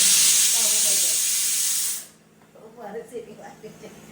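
A loud, steady hiss of steam from a pressure cooker for about two seconds, then it cuts off and faint voices talk.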